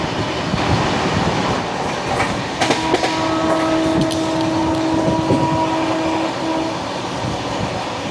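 A train passes on an Indian railway line, a steady loud rumble with clickety-clack and a brief tonal whine midway, heard close and continuous from a moving train.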